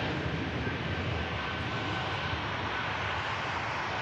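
A Ryanair airliner rolls out at Manchester Airport, giving a steady, unbroken broadband jet roar that holds at an even level throughout. No voices are heard.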